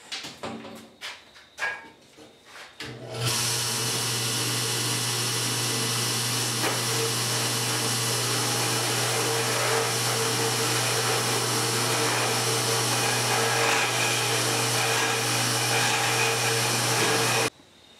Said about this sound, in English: I'm gonna attempt to drill out the threads